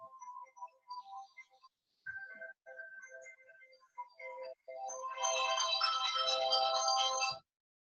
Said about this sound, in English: I have a mobile phone coming off.